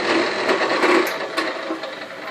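A drill press hums and rattles steadily, its belt whirring with a few sharp ticks, running loudly without any voices.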